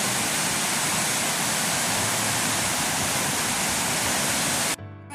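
A flooded river at Piñan, swollen after a night of heavy rain, rushes past in a loud, unbroken roar that drops away abruptly just before the end.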